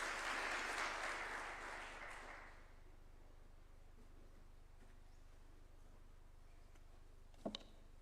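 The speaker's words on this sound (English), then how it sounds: "We can welcome him with a clap as well." Brief applause at a formal government event in Kenya, fairly faint and distant, fades within about two and a half seconds into a quiet room hum, with a single sharp knock near the end.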